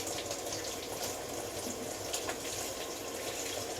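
Water from a faucet runs steadily over a mango seed being rinsed and scrubbed, a close, continuous splashing gush with no talk.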